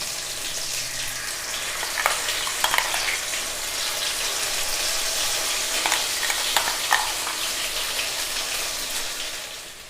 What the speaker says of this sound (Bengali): এবার আমরা মশলাটাকে ভালো করে কষিয়ে নেব।